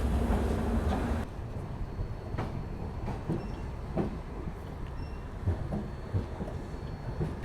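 The Shree Mata Vaishno Devi–Gandhidham Sarvodaya Express passenger train runs on rails toward Jammu, giving a loud, steady rumble with rhythmic clickety-clack wheel beats heard from inside, and no voices.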